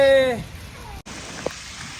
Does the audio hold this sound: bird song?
no